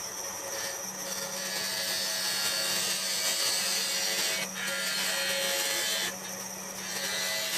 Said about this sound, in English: All right, let's get this thing parted off.